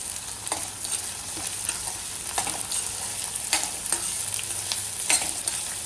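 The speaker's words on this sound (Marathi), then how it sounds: "कांदा टाकूया, कांदा चांगला परतून घ्यायचा" Chopped onion sautéing in a pan for a traditional Marathi ridge gourd curry: a steady soft sizzle with scraping stirs of a spoon against the pan every second or so, close and alone.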